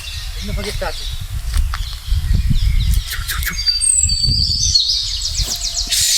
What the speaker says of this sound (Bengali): টিয়া পাখি কিন্তু প্রচণ্ড কান্না করছে